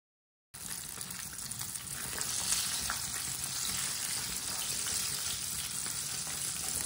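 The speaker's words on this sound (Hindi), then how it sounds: "चिकन को इसी तरह ना अच्छी तरह फ्राई कर लेंगे।" Chicken frying in a pan, a loud close sizzle that starts abruptly after a moment of silence and holds steady throughout.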